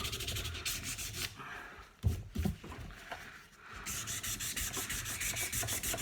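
Sandpaper rasps steadily against a golf club shaft, worn scraps of 240 grit rubbing in continuous close strokes that pause briefly midway before resuming.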